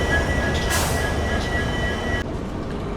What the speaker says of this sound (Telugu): మనైతే విశాఖపట్నం జంక్షన్ నుంచి అయితే బయలుదేరిపోయినాము.